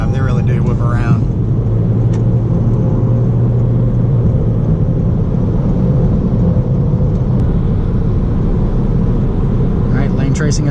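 A 2020 Toyota Corolla hatchback on the move, its steady low engine and road rumble running loud and even throughout, with a voice talking over the drone.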